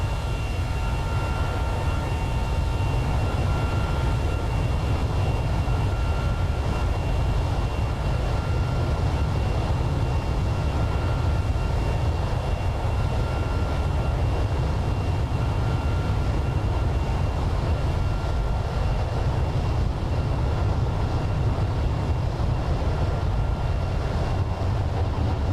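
Constant low, dense jet roar from an Airbus A321 with IAE engines in the X-Plane 11 flight simulator, heard steadily without pause as the view circles around the aircraft, with no voices.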